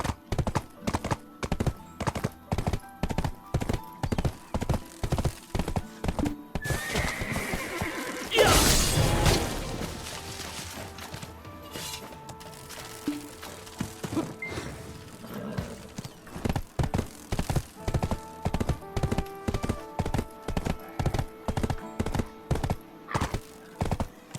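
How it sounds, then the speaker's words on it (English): Rhythmic hoofbeats of a horse in the video game Black Desert clip-clop at a steady gallop, broken midway by a loud whinny, then the galloping resumes, close and prominent. "back on our horse."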